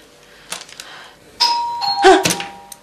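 A doorbell rings in a family home in a Syrian TV drama: a loud electronic ding-dong chime sounds clearly over faint room noise.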